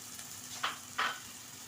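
Chopped tomatoes dropped into a pan of hot, sizzling masala for Punjabi chicken masala, with a steady faint fry and two brief louder spits as they hit the oil.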